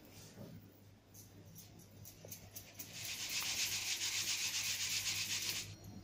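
Chakali dough lumps being pressed and crushed with a small bowl, heard as a soft scraping rub that swells into a steady, louder grinding for a few seconds before stopping abruptly.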